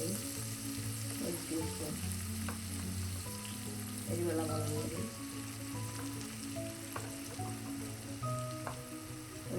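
Spice powders (turmeric, Kashmiri chili, chili, roasted coriander, black pepper and garam masala) frying in oil for a country-style crab curry. A steady sizzle runs throughout beneath a speaking voice and tonal background sounds.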